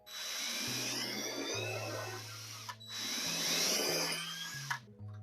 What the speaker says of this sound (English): So I'm going to make a bigger pilot hole that is the width of the hard plastic